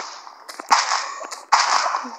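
The Wither boss spawns and explodes in Minecraft, giving two sharp, crackling blasts less than a second apart, each fading into a noisy rumble.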